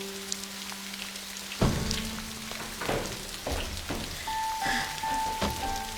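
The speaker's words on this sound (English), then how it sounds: "it starts to rain indoors" Indoor rain from a malfunctioning sprinkler-like system pattering steadily onto surfaces in a room, a broad hiss with scattered drips and clatters, mid-distance, with a faint tone and bumps over it.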